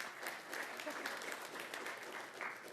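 Applause from the audience at a city council meeting, honoring a Community Corrections Advisory Board appointee; a steady, moderately loud patter of clapping hands sustained throughout.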